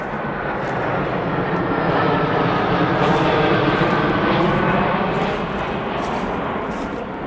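Airplanes passing low overhead near Atlanta's busy international airport, a loud, steady broadband roar that swells slightly in the middle and holds for several seconds with no talking.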